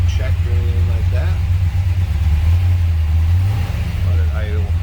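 A 1964 Dodge Polara 500 hardtop's 426 Max Wedge V8 idles with a steady, deep low rumble that swells slightly, continuous throughout while someone speaks intermittently over it.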